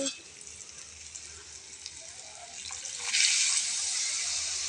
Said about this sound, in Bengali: এর মধ্যে সামান্য পরিমাণে জল দেব